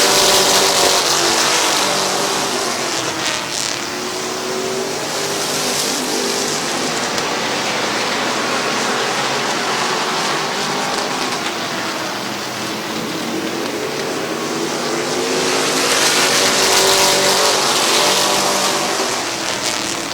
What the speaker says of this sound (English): Here comes Locker to the race lead